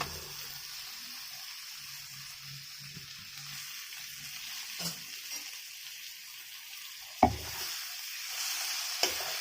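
Taro leaves fry in spiced oil with a low, continuous sizzle and scraping stir sounds, punctuated by a couple of sharp utensil clanks against the pan near the end.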